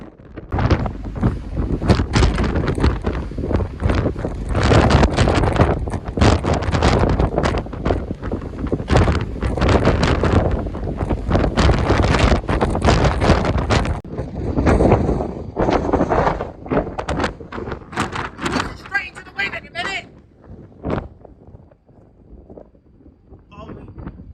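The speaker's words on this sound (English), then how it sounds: "Somewhere over the Bay of Biscay. And it's very, very windy." Strong, gusty wind buffets the microphone in loud continuous roars and rumbles on a ferry deck over the Bay of Biscay, with a voice speaking intermittently underneath.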